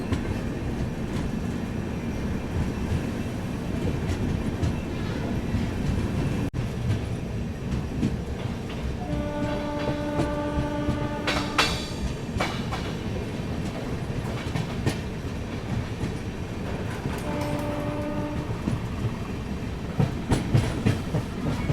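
A Duronto Express train pulls out of Loharu Junction with a steady rumble and clatter of coaches rolling along the rails, broken by a couple of sustained horn blasts midway and later, heard close from on board.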